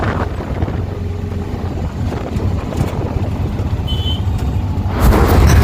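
Ride in an auto rickshaw heading to Samalkot railway station from Sarpavaram junction in Kakinada, a continuous rumbling engine drone buffeted by loud wind noise, swelling louder near the end.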